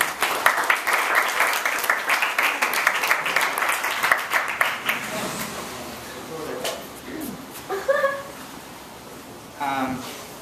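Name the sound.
audience applause for Byron Campbell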